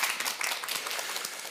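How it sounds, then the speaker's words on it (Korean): An audience applauds Professor Yoo Young-man after his lecture, a steady, dense wash of many hands clapping together across the short stretch, with no voices on top. "유영만 교수님께 다시 한번 큰 박수"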